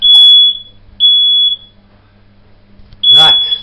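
A Fire Angel toast-proof smoke alarm sounds three loud, piercing electronic beeps, each about half a second long with a second of quiet between them, close by, with a brief voice overlapping the last beep.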